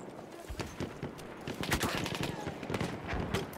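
Submachine gun fire in the video game Battlefield 1: rapid, fairly faint shots in irregular bursts, with a busy battlefield mix behind them.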